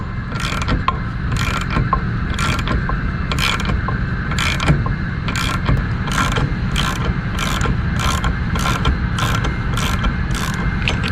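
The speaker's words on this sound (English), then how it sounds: "I sped that up a little bit so that you guys didn't have to watch me ratcheting this" A hand ratchet clicks in a steady, even rhythm while a press-fit power steering pulley tool is cranked by hand, the quick repeated ratcheting sped up and close, running throughout with no talking.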